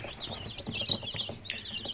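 Baby chicks one to two weeks old, kept in a pipe brooder, give a busy chorus of thin, high peeps. The calls come close but soft, overlapping in quick bursts with no talk.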